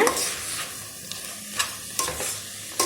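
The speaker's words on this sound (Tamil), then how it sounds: "இப்போது இந்த பேஸ்ட்டை ஆட் பண்ணி நல்லா கலந்து விட்டுக்கோங்க" Ground paste stirred into a vegetable biryani in the pot, a steady soft sizzle broken by a few sharp scrapes of the spoon against the vessel, close by and with no voices.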